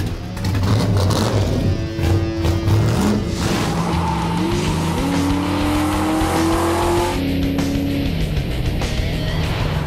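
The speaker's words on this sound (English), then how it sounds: "getting ready to take the year one Trans Am out" A Year One Pontiac Trans Am drives off hard, its engine revving loudly and climbing through gear changes, with a brief tire squeal near the start and a steady close rumble throughout.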